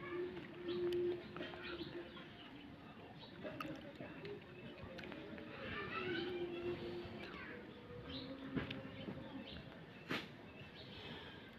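A Chita pigeon gives low, soft cooing calls in repeated phrases, close and fairly quiet, against a busy background with a person talking.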